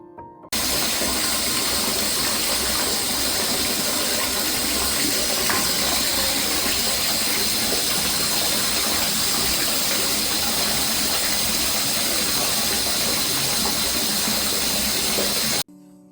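Water gushes from a tap into a bathtub being filled for a bubble bath, a loud, continuous rushing splash that starts suddenly and stops cleanly about fifteen seconds later.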